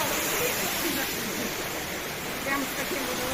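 A waterfall heard up close as a steady, loud broadband rush of falling water filling the whole clip, with no pauses or breaks.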